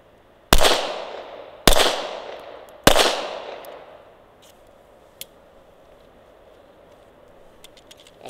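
Three sharp, loud shots from a Glock 19X pistol ring out at close range about a second apart, each followed by a decaying echo, then quiet with a faint click.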